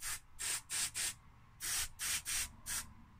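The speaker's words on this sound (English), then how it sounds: "switch cleaner in there and just work it like so." Seven short hissing sprays of switch cleaner aimed into a PSION Organiser II handheld computer, in two quick groups of bursts that are close and fairly loud, with no talking.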